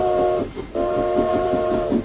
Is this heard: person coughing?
no